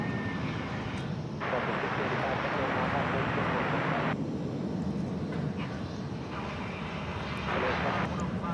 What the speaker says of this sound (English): There is American Flight 1399. This is going to San Diego, California. It's an Airbus A321.